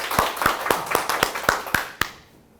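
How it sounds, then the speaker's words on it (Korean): An audience at an online launch ceremony for a university student mentoring program claps in a crisp, fairly close burst of about nine evenly spaced claps. The clapping stops abruptly and leaves quiet behind it. "여러분 큰 박수로 맞이해 주시기 바랍니다."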